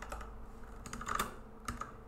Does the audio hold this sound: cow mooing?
no